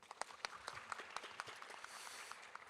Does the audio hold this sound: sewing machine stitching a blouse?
no